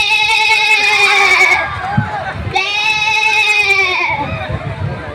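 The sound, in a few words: person imitating a goat bleating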